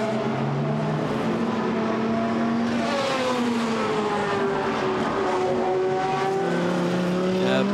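GT race cars run on the Misano circuit during qualifying, their engines producing a sustained high whine that rises and falls in pitch as cars pass and shift, with background commentary.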